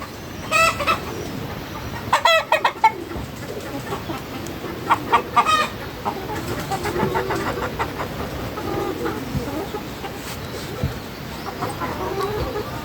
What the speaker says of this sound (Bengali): শুনতে পাচ্ছেন ডাকগুলা এই ডাকগুলাই আমরা আমাদের আমরা বুঝতে পারি যে আমাদের মুরগি ডিম পাড়ার সময় চলে আসছে